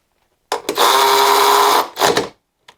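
A cordless Milwaukee M12 Fuel 3/8-inch high speed ratchet whirs loudly and steadily for over a second while spinning a bolt off, then gives a shorter burst and a faint final click, close up.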